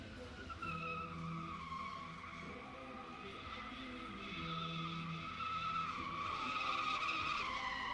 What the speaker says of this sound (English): we're just burning it down, getting some freestyle drifting and driving